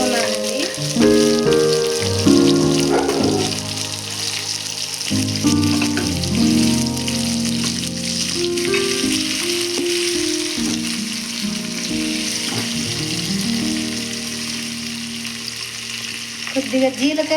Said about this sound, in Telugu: ఉల్లిగడ్డలు కూడా కోసి వేసుకున్నానండి